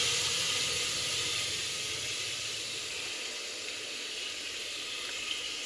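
Pav bhaji vegetables (tomato, potato, cauliflower, peas, capsicum) sizzling in hot oil, a steady broadband hiss that fades slightly toward the end, no voices.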